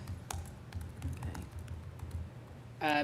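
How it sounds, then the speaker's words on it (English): Loud typing on a computer keyboard at a council meeting, a steady run of close, sharp key taps over a low room hum, with a brief louder clatter at the very end. "I'm a loud typer out there in TV land."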